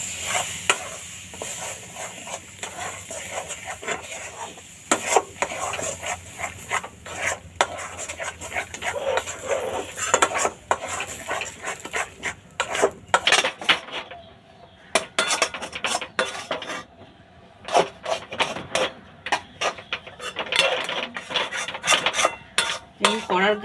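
Chana dal filling for dalpuri stirred in a pan over medium heat, a spoon scraping and clattering against the metal again and again in quick irregular strokes over soft frying, close up and with no voices.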